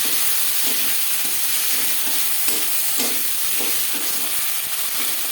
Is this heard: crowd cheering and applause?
no